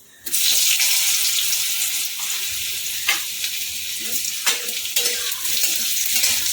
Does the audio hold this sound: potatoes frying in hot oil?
yes